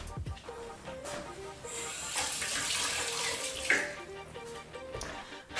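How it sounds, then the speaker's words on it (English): An AeroPress coffee maker rinsed under a running tap, with a steady close gush of water splashing into a sink and small clinks of the plastic parts, no voices. "And then I just rinse this off"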